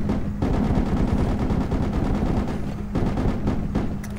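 Sustained rapid gunfire in the military shooter Project Reality, dense overlapping automatic bursts and shots with a steady low rumble, loud and continuous throughout with a couple of brief gaps.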